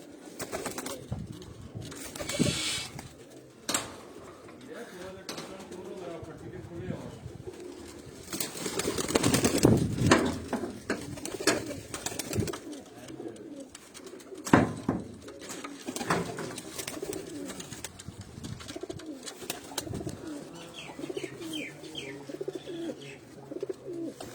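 Domestic pigeons coo repeatedly nearby amid rustling, wing flaps and scattered bird noises, with a busy, cluttered background throughout.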